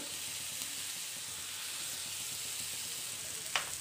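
Fried eggs tossed into green masala sizzle continuously in a pan, a dense, even hiss up close with one brief scrape near the end and no voices.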